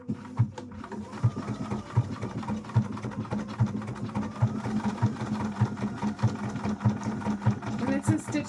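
A sewing machine stitches a Link cosplay costume in a steady run of rhythmic mechanical pulses, roughly two per second, close and moderately quiet.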